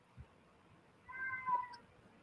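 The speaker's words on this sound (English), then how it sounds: "Sorry if you guys can hear my cat. He wants to go outside." Pet cat indoors wanting to go outside, giving one drawn-out, rising meow at moderate distance after a small thump, with quiet room noise around it and no speech.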